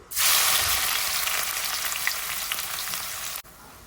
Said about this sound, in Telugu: ఉల్లిపాయ పచ్చిమిరపకాయ ముక్కలు వేస్తున్నాను